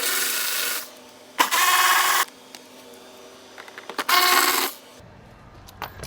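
A power tool spins out T30 Torx bolts from a Tesla Model 3/Y window switch assembly in several close, loud whirring bursts, separated by small metallic clicks and handling noises.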